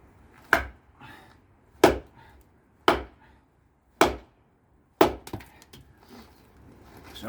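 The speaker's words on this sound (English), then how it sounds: "It can chop so well" A TOPS Wild Pig Hunter knife chops into wood in five sharp, close, evenly spaced blows, each a crisp woody thunk followed by a short splintery tail, with quiet pauses between them.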